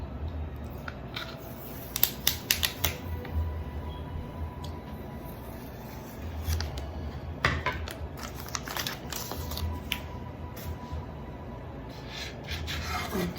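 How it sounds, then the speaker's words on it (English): Stickers being peeled and rubbed off inexpensive wooden boards from a dollar store, a steady close scratchy rasping with a few sharper pulls and taps, no voices. "So first, let's take off the stickers."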